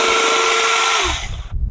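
Cheap battery-powered chainsaw motor whining loudly up close at a steady high pitch, then winding down and cutting out, leaving low handling thumps.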